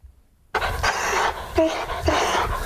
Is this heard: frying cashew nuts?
no